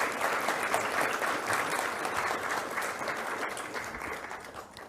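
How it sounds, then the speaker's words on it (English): An audience at the Chameli Devi Jain Award 2022 ceremony bursts into sustained, dense applause that stays loud and steady before easing off slightly. "A round of applause for Dhanya, please."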